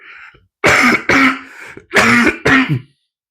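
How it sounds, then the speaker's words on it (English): A person coughs and clears their throat in four heavy, close bursts spaced about half a second apart, with near silence before and after. "apologies for the coughing"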